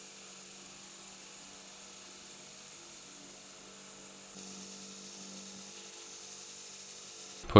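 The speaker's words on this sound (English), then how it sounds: "this is actually a standard countersink drill bit, but I find those actually work okay for doing small chamfers" A standard countersink drill bit chamfers the top edges of a machinist's belt grinder part, making a faint, steady whirring hum throughout with a sharp bump right at the end and no voices.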